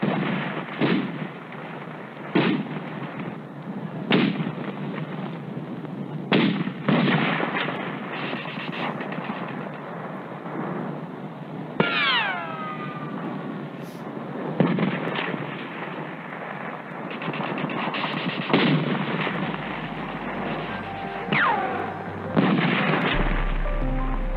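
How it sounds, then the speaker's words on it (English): Korean War street fighting: repeated gunfire and artillery blasts echo in sharp, booming bursts over a constant rumbling din. Several loud reports come at irregular intervals, with whistling streaks partway through. "Street fighting rages throughout the city."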